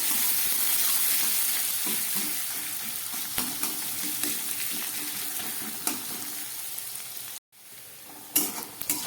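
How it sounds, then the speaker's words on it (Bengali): Onion sizzles and crackles steadily in hot oil with occasional spoon scrapes; a brief break near the end, then the sizzle resumes. "পেঁয়াজটা আমার ভাজা হয়ে গেছে"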